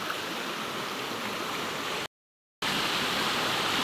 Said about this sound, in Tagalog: Yun naman po ng tubig ay naanod.